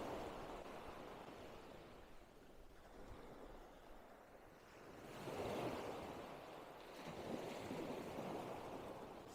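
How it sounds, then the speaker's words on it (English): Broadband surf rolls in steady washes on a beach on Iki Island, Japan, swelling louder twice as waves break and recede, with no voices, just continuous water hiss. "the sound of the water, the waves coming and going."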